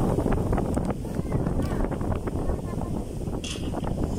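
Strong gusts buffet the microphone at a windy riverside spot near the coast during a typhoon, a loud rumbling roar that surges and dips continuously, with a brief faint clink partway through.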